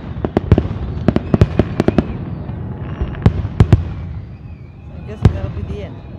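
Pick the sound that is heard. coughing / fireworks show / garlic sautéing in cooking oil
fireworks show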